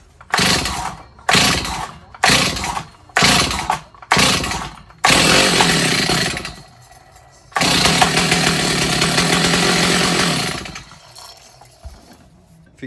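Model 310 chainsaw with a dry carburetor being pull-started, five or six short rasping pulls that fail to catch, then the engine fires and runs in two loud sustained bursts before cutting out.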